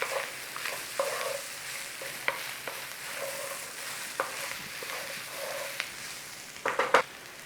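Balsamic vinegar sizzles in a hot pan of beef, a steady close frying hiss broken by sharp clicks and scrapes of stirring, with a louder burst of spatter near the end.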